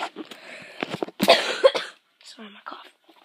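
A few harsh coughs break up muffled nearby talking, then soft speech trails off toward the end.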